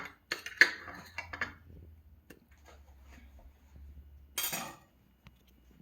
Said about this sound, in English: We're gonna cut this fat part off right there.